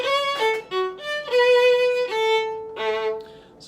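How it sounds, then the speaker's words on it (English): Boccherini's Minuet phrase played plainly without its trill on a bowed string instrument, a handful of clear sustained notes with short breaks between them, close and solo. "So if I was to do this without the trill, it'd sound like this."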